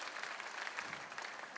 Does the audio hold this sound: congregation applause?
yes